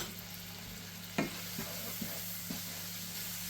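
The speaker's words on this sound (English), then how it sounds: "Start frying down those spices." Turmeric, cumin and garam masala fry in a pan with a steady close sizzle, punctuated by a few clinks and scrapes of stirring.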